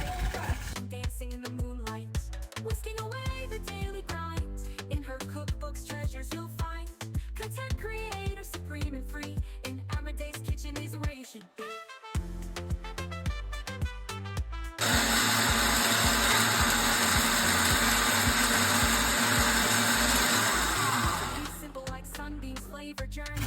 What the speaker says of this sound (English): I crushed this using my Gucci mix super crush blender